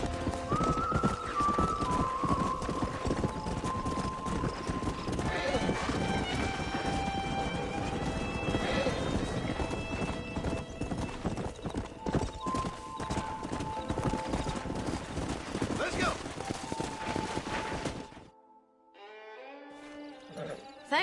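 Horse hooves clop rapidly and steadily in Red Dead Redemption as horses are ridden along, a dense loud galloping rhythm with an occasional whinny, cutting off near the end before a quieter tail.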